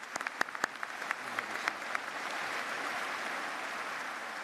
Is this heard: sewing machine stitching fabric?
no